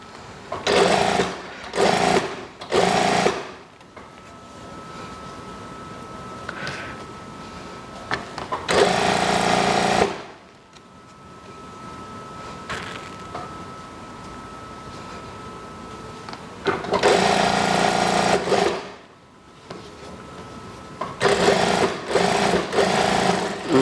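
A sewing machine stitches the trim on a kimono-style house dress, running in loud close bursts: a few short runs, a longer stretch, then a long steady run and another cluster of short bursts, with quiet handling between.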